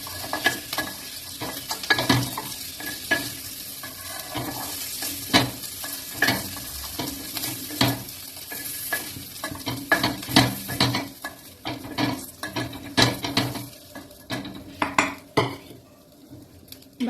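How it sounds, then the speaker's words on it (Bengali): Cauliflower with turmeric, chili and salt sizzles in a pan while a metal spatula stirs and scrapes repeatedly, giving frequent sharp clinks and scrapes over a steady frying hiss. "তারপর হলুদ মরিচ আর লবণ দিয়ে একটু ফুলকপিটা একটু ভেজে তুলে নিলাম।"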